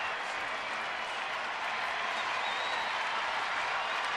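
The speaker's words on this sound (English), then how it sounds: "And now the big crowd has really come alive." A big crowd at a Cardinals at Nationals baseball game cheers and applauds, a dense, sustained roar of claps and voices filling the stadium, with a commentator talking over it.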